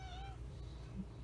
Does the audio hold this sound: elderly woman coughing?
no